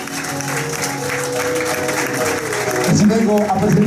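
Applause for teachers at a school event, a sustained bed of clapping from an audience that swells louder toward the end, with faint voices and some background tones beneath.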